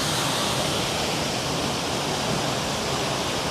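Palina Falls in La Union, a sizable waterfall, pours in a loud, steady broadband roar heard up close, continuous and unbroken with no voices.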